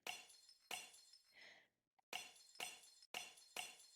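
Sharp glass-breaking hits serve as percussion in a song, with bright shattering crashes that repeat roughly every half second. A short gap interrupts the run partway through, and a few softer tinkling fragments sit between the louder smashes.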